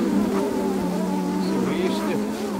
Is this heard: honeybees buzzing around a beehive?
yes